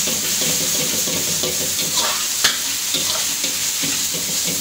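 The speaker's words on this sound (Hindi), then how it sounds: "अब इसके अंदर ये सारी वेजिटेबल्स वगैरह डाल देंगे, नूडल्स, इसको अच्छी तरीके से करेंगे मिक्स" Vegetables and noodles stir-fried together in a hot pan for Singaporean rice, giving a loud, steady sizzle with scraping and stirring sounds running through the whole stretch and no talking.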